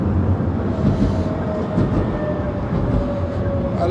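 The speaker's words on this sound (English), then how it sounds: "You see their city train." A city train in Warsaw, Poland rolls by with a continuous heavy rumble and faint squealing tones from the wheels, steady and fairly close, with no speech.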